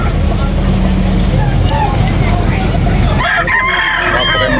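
A rooster crows at a chicken market in Cebu with a loud, close, drawn-out call near the end, over busy crowd chatter and traffic noise.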